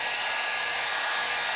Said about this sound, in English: if it's a heat gun or a hair dryer, you know, it could take you a minute to a couple minutes